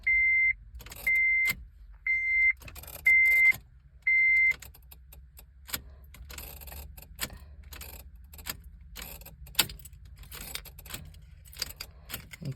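Ignition on a 2006 Honda Civic Si with a faulty ignition switch fails to start as the key is turned, giving a series of short electronic chimes and beeps followed by clicks and faint key jangling in a quiet car.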